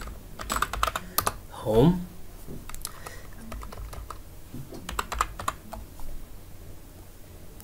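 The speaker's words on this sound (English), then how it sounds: "So I'll just go and type" Typing on a computer keyboard while building a hamburger accordion menu in Adobe Muse CC 2018: bursts of quick, close key clicks come in uneven runs, with someone speaking briefly over them.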